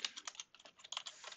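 Fingers tap out a search on a computer keyboard, a quick irregular run of light plastic key clicks, close and quiet, with no voice over them.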